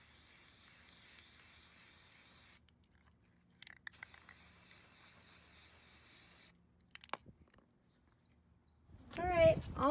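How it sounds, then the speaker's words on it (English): Aerosol spray paint hisses from a can onto dollar-store Halloween decor in two long bursts separated by a pause, followed by a few small clicks and a brief voice at the end. "All spray painted."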